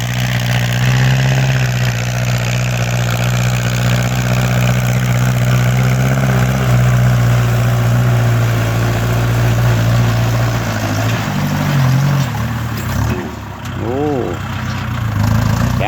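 A Kubota L5018 tractor engine drones steadily and loudly at idle throughout, deep and continuous, with a person talking over it near the end.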